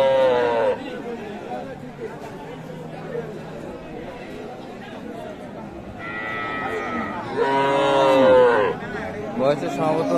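Cattle low repeatedly at a busy rural cattle market (haat) in Aftabganj, Dinajpur, where cows are sold with calves; several drawn-out moos stand out over steady crowd chatter and nearby talking.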